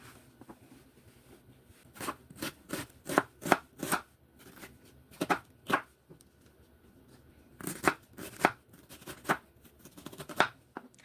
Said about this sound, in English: to start my seafood boil, I went ahead and chopped some onions